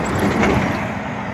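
Traffic on a small side street in Toronto, a steady broad roar of passing cars and engine noise, close and continuous without distinct breaks.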